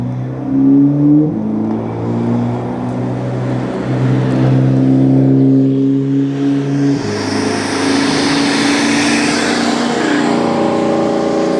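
A loud supercharged Toyota engine revs and shifts at a cars and coffee meet, its pitch climbing in steps with a strong whining roar, close by and continuous.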